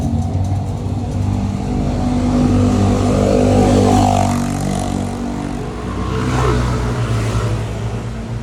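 A motorcycle engine revs loudly and close by, its steady harmonic drone rising and swelling across several seconds with no talk over it.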